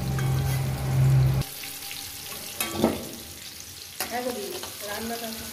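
Potatoes and pumpkin pieces fry in hot oil with a soft, steady sizzle, and a few louder stirring scrapes and bursts rise and fall over it.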